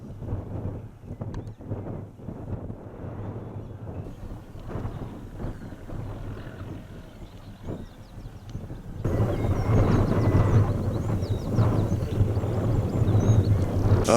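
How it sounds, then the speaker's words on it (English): Wind buffets an exposed hillside above the Rivelin Valley in the Peak District, rumbling steadily and then growing sharply louder and gustier partway through, with no talk. "Starting to get a bit windy now, but I am rather exposed up here"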